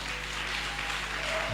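A church congregation at a Sunday praise and worship service claps and cheers, a dense, steady wash of applause that fills the whole short moment without letup.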